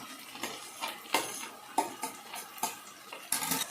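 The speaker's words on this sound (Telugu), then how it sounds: "తర్వాత సొరకాయ వేస్తున్నానండి" Pieces of bottle gourd are added to a pan with coconut paste and stirred, making a run of close, clinking scrapes and knocks of a utensil against the pan in an uneven rhythm.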